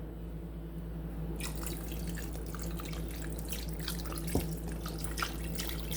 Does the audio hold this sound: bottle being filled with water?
yes